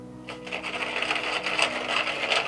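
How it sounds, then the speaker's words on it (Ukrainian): Rhythmic scraping and swishing as bread dough mixture with flour is stirred in a bowl, repeating steadily at close range with a faint hum underneath. "І тепер перемішую."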